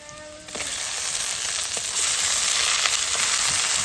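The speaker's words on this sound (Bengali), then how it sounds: "বন্ধুরা এই যে মাংস এখন কড়াইতে দিয়ে দিব।" Goat meat hitting a hot wok sets off a sudden, loud sizzle that keeps hissing and swells stronger about two seconds later, with faint stirring scrapes and no talking.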